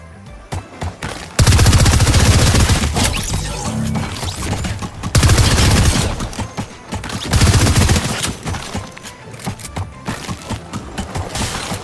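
Submachine gun fire from an unused Frozen weapon in Fortnite: three loud sustained bursts of rapid automatic shots, each several seconds long, separated by short quieter gaps.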